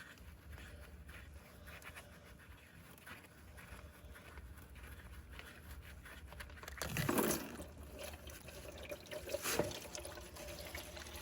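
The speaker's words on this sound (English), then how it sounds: "I have my drain pan down there and ready for the splash" Transmission oil from a 2018 Honda Civic pours into a drain pan in a faint, trickling splash. The flow swells briefly into a louder gush before settling back to a soft dribble, with no talk.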